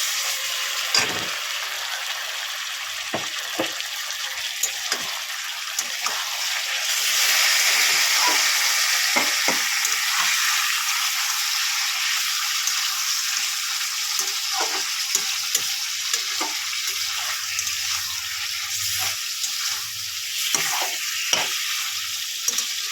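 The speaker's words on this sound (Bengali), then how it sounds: "এবারে ম্যারিনেট করা চিকেনটা দিয়ে দেবে" Marinated chicken and onions sizzle loudly in a pan with a continuous hiss, punctuated by stirring clicks and scrapes, up close and with no talking.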